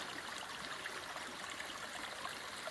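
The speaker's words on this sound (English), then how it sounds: "So all these little streams just run down the side of the hill" Small streams trickle and babble down a Welsh hillside in a steady, close, continuous rush of running water with no voices.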